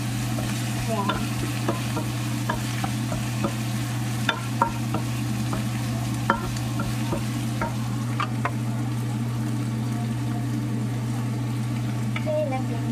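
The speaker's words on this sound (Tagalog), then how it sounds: "Pansit natin halo, guys." Pancit noodles are stirred in a pan over a low sizzle and steady hum, with repeated light scraping clicks from the utensil at an uneven pace throughout.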